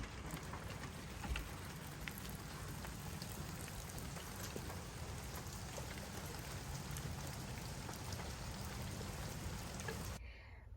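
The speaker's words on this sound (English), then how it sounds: "it has been raining nonstop every single day" Steady rain falling outside, a dense continuous patter on surfaces at moderate level that cuts off near the end.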